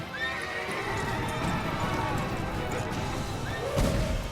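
A horse whinnies loudly, then hooves clip-clop at a steady walking rhythm, set against a quiet ambient background.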